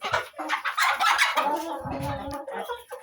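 Hens and a dozen young chicks on a farm keep up close, busy, overlapping peeping and clucking throughout, with no pause in the chatter.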